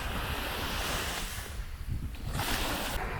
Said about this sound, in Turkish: hafif deniz dalgalı olduğu için arka taraftan da çok güzel bir dalga sesi geliyor